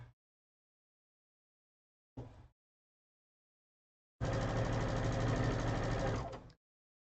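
A sewing machine stitches fabric in a brief burst followed by a longer, even run of quick mechanical stitching, set against silence with no voices.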